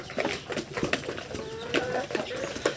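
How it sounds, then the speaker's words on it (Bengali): A hen preparing to lay eggs clucks repeatedly nearby in a poultry setting, short throaty calls coming in an uneven rhythm. "তো এই সাইডে আরও একটা মুরগি ডিম পাড়ার জন্য প্রস্তুতি নিতেছে।"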